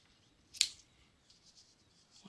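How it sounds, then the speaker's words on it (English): A pair of scissors makes one sharp, close snip while trimming excess ribbon on a stamped handmade card, and a few faint rustles follow in a quiet room. "And let me get my scissors."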